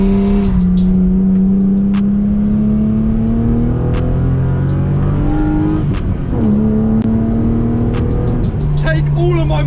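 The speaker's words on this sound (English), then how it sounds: "You cannot beat the sound of a straight 6." An old BMW straight-six engine revs hard while driving, climbing through the gears in loud rising sweeps with brief drops between shifts, close and dominant throughout.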